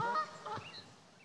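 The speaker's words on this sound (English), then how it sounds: "So we've got Canada geese in the background." Canada geese honking in the background outdoors, a few nasal honks in quick succession that fade off, with no one talking.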